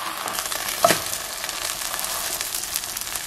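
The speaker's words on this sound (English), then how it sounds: "so now you just put this meat side down. We're gonna cook it for about 3 minutes on that side." Beef sizzles steadily in a hot pan while being cooked for Big Mac tacos, a continuous close hiss and crackle with one brief louder pop near the start.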